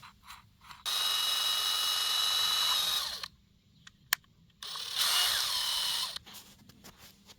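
A DeWalt 12V cordless drill, working again after a stuck chuck was freed, whirs in two loud bursts of a few seconds each, separated by a quiet gap and a single sharp click.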